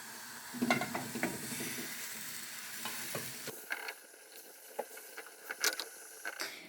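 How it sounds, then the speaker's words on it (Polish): Steady sizzling of buckwheat pancake batter frying in a hot pan, with occasional clicks and scrapes of a utensil against the pan, close up and fairly quiet. "No to teraz idę smażyć naleśniki."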